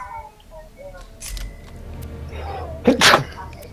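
One sharp sneeze lands near the end, loud and close, after quieter game sounds and a bit of background speech.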